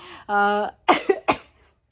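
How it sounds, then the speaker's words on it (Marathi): One person coughs up close: a short voiced sound, then three sharp, harsh coughs in quick succession, followed by silence. "अजून खोकला नाही बरा झाला माझा"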